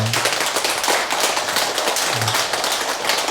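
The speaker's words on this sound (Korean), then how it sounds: "다시금 감사의 큰 박수 부탁드리겠습니다" Dense, steady applause from an audience at a Buddhist dharma service, many hands clapping at once without pause throughout.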